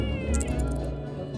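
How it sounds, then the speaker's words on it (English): Cat meowing inside a video game, repeated high meows over a steady game soundtrack, loud and close with no talk. "Eek, kitty cat."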